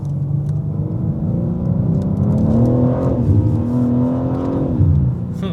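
A BMW M car engine revs under throttle in a steady, loud rumble with rising and falling pitch, sustained and close throughout with no talking.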